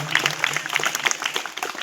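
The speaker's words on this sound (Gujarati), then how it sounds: "તાળીઓના ગડગડાટથી તેઓનો જન્મદિવસ વિશ કરીશું" Applause at a school birthday celebration for the parents' association president at B.V. Patel High School, Vatadara: a hall full of people clapping briskly together, close and dense, for under two seconds.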